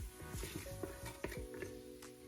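Chopped onion tipped into a hot pan and stirred around, giving a quiet sizzle with repeated scraping strokes and soft knocks of the spoon against the pan.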